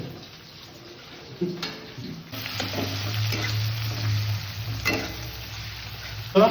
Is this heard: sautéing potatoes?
yes